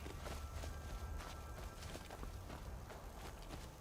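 Footsteps in Skyrim, a steady run of soft, regular steps close by against a constant hissing ambient bed.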